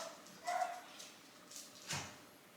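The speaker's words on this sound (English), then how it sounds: "I need to go wrangle my dogs." Household dogs give a couple of short, faint yips and whimpers some distance from the microphone. The sounds are spread across a quiet room with a low background hiss, and nobody speaks.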